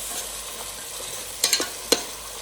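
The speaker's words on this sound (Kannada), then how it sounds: "ಈ ಮಸಾಲೆಯನ್ನು ಲಾಯ್ಕ್ ಮಲ್ತದ್ದು ನೆಟ್ಟಂತೆ ಮತ್ತೆ ಫ್ರೈ ಆಡು" Ground masala for crab ghee roast fries in a pan with a continuous soft sizzle, broken by a few sharp stirring clinks and scrapes toward the end, and no speech.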